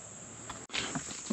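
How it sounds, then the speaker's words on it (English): A cicada calling beside a hiking trail in a state park, a thin steady high buzz held throughout, fairly faint, with a brief dropout midway and a few soft rustles. "So there's a cool cicada."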